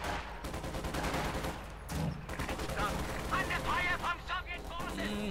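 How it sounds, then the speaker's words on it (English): In a Company of Heroes 2 match, a Panzer tank fires on a field gun amid dense, continuous gunfire and explosions, with a commentator talking over the battle throughout. "Panzer attacking straight into the field gun."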